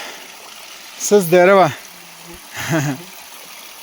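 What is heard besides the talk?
flowing water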